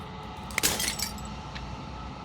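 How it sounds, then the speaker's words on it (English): Glass shattering in the video game Slay the Princess: a sharp crack followed by a bright scatter of tinkling shards over a low steady ambient hum, then a faint last chink. "As the final fragment of glass shatters"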